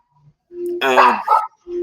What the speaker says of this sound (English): they're just barking at each other